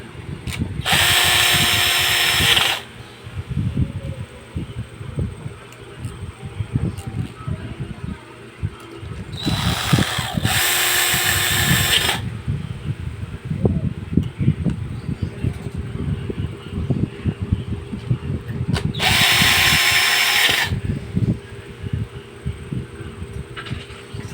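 A power drill drives screws while an electric fan's shaft is being replaced, giving three loud whirring bursts separated by pauses over a steady low rumble and background hum.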